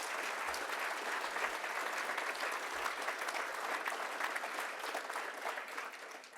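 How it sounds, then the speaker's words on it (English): An audience at a formal speaking event claps in a sustained, dense round of applause, steady and moderately loud before tapering slightly at the end. "Let's give another round of applause."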